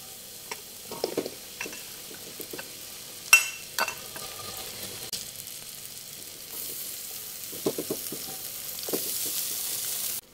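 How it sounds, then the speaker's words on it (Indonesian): Tempeh, tofu, meat and cassava leaves being stirred in a pan of cooked spice paste and bay leaves, with soft scraping stirs and a steady low sizzle, plus a few sharper knocks of the utensil on the pan. "Lalu diaduk sampai tercampur rata."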